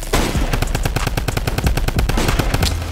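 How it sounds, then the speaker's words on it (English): A minigun in the Roblox game Flag Wars fires a loud, rapid, continuous burst of evenly spaced shots, close and alone with no talk. "tell me why I was just shooting my minigun like it was a shotgun"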